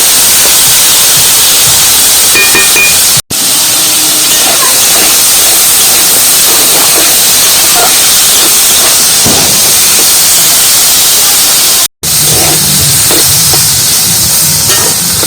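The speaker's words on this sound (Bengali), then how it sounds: "আলু আর তেলাকুচু ফলটা পুরো এইভাবে খানিকক্ষণ ভেজে নেব।" Potatoes and telakucha fruit fry in hot oil, giving a loud, continuous sizzling hiss with small crackles throughout, broken by two brief silent cuts.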